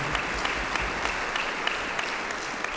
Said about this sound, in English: Yes, give them a hand.